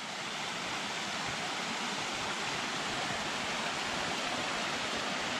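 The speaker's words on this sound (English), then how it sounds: "we're going to hit that waterfall we saw earlier." Steady, rushing water pours continuously close by, a dense broadband roar of a small creek waterfall on a trail at Mount Rainier, Washington, with no pauses and no voices.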